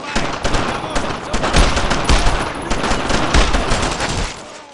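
Sustained automatic and rifle gunfire from a World War II squad battle in Brothers in Arms: Road to Hill 30, dense overlapping bursts and shots throughout, loud and close, with shouted voices mixed in.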